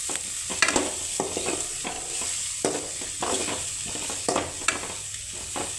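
Onions and tomatoes sauté in a pan for a South Indian tomato kurma, a steady close sizzle broken by repeated spatula strokes scraping and tapping the pan in an uneven rhythm, with no talking.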